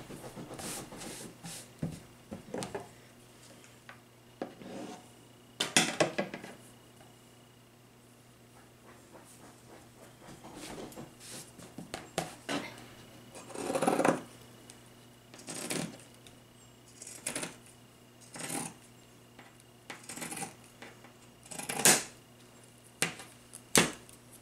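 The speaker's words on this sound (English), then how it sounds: "I'm going to see if I can fold it in half and cut it" Repeated crisp snips of scissors cutting through folded strips of paper for a Dollar Tree Easter bunny craft, coming in irregular bursts close up with quiet pauses between cuts.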